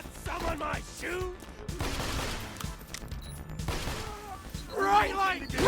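Gunfire in Borderlands 2 crackles in bursts through a busy firefight against mercenaries, mixed with shouting voices that run over much of the action.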